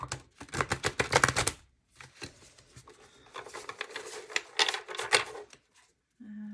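Clattering bursts of large oracle cards being shuffled by hand in sections, rapid irregular snaps that pause and resume, ending with a brief low hum.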